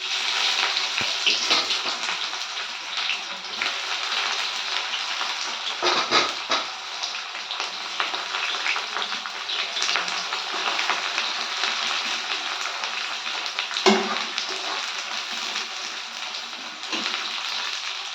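Meat sizzles with ginger and garlic in a little oil in a pan, a steady close frying hiss with occasional spatters and stirring scrapes running throughout, without speech.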